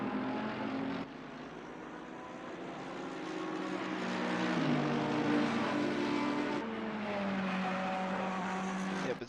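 GT3 race cars in the Real Racing game, including a number 92 Mercedes, roar past with strained, rising and falling engine notes and gear shifts, loud and close without a break.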